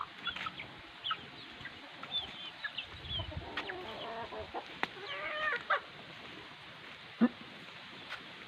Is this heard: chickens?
yes